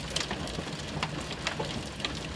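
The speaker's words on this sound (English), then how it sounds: "the biggest hail I've seen in like ages" Marble-sized hail pelting down during a tornado-producing thunderstorm in upstate New York, a dense steady patter of sharp ice impacts with scattered louder cracks, close and continuous, no talking.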